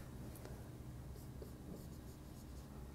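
Pen or chalk scratching out math equations by hand, a steady near stream of small strokes and taps with no talk.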